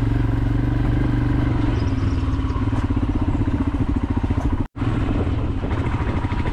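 A vehicle's engine drones steadily while driving on a rough road toward Netravati Peak in Chikkamagaluru, with rattling and clatter over the bumps, loud and close, cut by a momentary dropout near the end.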